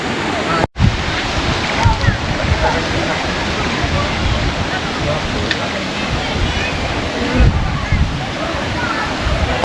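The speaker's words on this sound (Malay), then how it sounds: "Air sungai Kayan." The Kayan river rushes loud and close, a dense continuous roar of flowing water with a brief dropout near the start.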